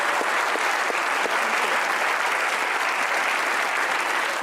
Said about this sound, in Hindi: इनके लिए एक बार तालियां बजाइए।